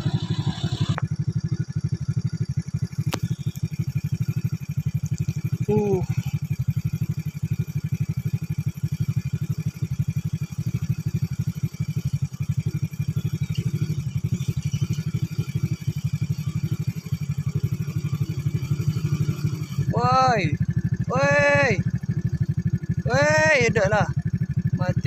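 A Toyota Dyna truck engine drones steadily and loudly at close range, with brief clattering bursts and rising squeals near the end as it struggles and stalls, while people talk and exclaim over it.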